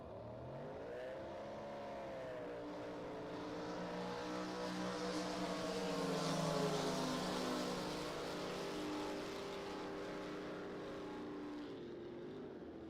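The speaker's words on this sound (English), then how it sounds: "the engines come to life and we're ready to go" Blown gas drag racing boat engines rev and drone loudly in the lanes during NJBA qualifying, a steady roar with rising and shifting pitch that swells near the middle and holds to the end, with no talk over it.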